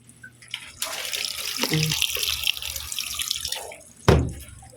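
Washing machine starting up and filling with water for laundry, with a steady rush of running water, a brief clunk partway through and a sharper splash near the end.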